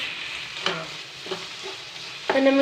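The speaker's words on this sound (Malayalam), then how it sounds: "ഷാലോ ഫ്രൈ ആ ചെമ്മീൻ" Prawns shallow frying in a pan for prawn biryani, a soft sizzle with a few brief stirring scrapes, quiet and close.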